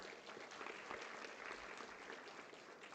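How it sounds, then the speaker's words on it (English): Steady audience applause at an army quiz quarter-final in Kolkata welcoming the quiz master on stage, a dense, even wash of many hands clapping for about three seconds, with no speech over it. "I request a good round of applause for our quiz master."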